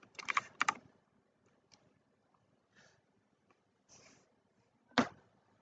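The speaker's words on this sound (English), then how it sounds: "Users can import their information by keyboard" Typing on a computer keyboard, heard as a few quick clusters of key clicks with scattered single taps and pauses between, close and fairly quiet in an otherwise silent room.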